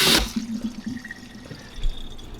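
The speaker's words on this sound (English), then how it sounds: "I had to take the pasta out and then rinse it under the cold water" Cold tap water runs over pasta being rinsed, with a loud splashing burst at the start and then a steady, close trickle with light splashes.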